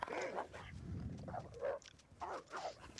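Several short, gruff barks and growling yelps from an animal in the survival game The Long Dark come in uneven bursts at moderate volume, without speech.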